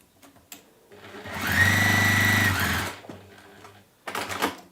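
A sewing machine stitches down a cork or PU fabric flower in one steady, close burst of about a second and a half, running alone between quieter moments.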